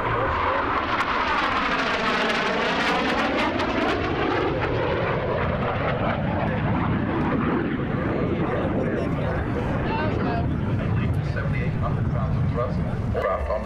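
An F-86 Sabre jet with a Westinghouse engine roars past at an air show demonstration, its loud engine sweeping in pitch as it passes, while a commentator talks over a public address and a dog barks nearby.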